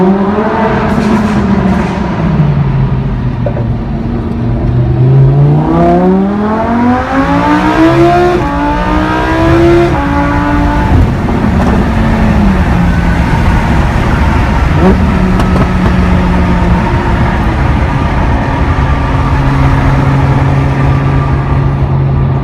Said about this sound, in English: I gotta tell you, the exhaust sound is incredible, and that is what super sport cars are about.